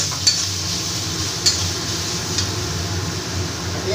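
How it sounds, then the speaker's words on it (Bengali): Grated carrot stirred and fried in a pan for a vegetarian Bengali carrot dhoka dalna, a steady low sizzle with a few sharp utensil clinks against the pan. "গাজরটা দিয়ে এবার আমি ভালো করে একটু ভেজে নেব"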